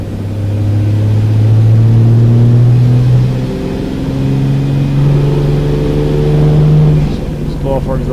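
A turbocharged engine drones at high load on a dyno, its loud steady tone shifting pitch across long pulls before easing off, with a sharp burst of noise near the end.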